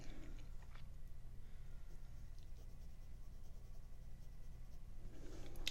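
A sharp pencil scratches marks on paper, faint quiet strokes over a low background hum with no voices.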